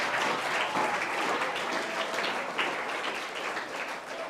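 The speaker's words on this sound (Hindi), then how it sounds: "तो एक बार इन सभी के लिए तालियां बजाकर बताइए कि कैसा लगा।" Hall audience at a Hindi debate competition claps for the student debaters, a full, even roar of many hands sustained throughout, loud and unbroken, with no speech over it.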